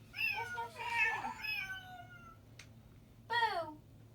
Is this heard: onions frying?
no